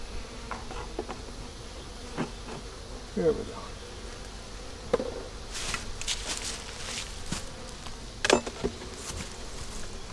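Honey bees buzz continuously around an eight-frame honey-bound hive, with scattered louder passes close by, some light handling knocks, and a brief spoken remark.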